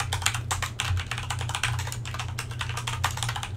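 Steady, quick typing on a computer keyboard while entering a bulleted list in WordPress, dense close key clicks over a low hum, no talk.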